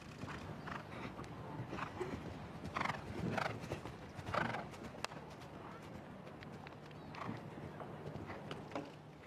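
A horse's hooves thud in rhythmic clip-clop strides over an eventing jump course at Burghley, with a whinny and a soft, distant crowd ambience.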